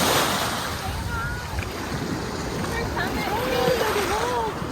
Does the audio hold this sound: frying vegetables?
no